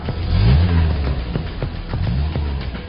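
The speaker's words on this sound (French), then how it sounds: "Actionnez la position booster et démarrez votre voiture." A car engine starts with help from an Avanty booster pack connected to the battery: rhythmic cranking pulses give way to a loud, rumbling idle that swells, then settles.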